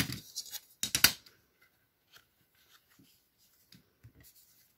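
Scissors snip open a paper pouch during a craft project. A few quick, close cuts and crisp paper rustles come first, followed by faint scattered handling sounds in a quiet room.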